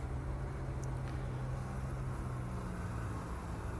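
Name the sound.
Cummins N14 truck engine in American Truck Simulator video game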